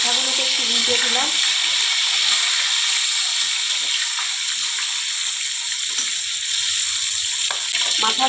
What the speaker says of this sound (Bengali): মাথাগুলোকে একটু উল্টে দিলাম।